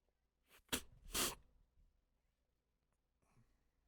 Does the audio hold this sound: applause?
no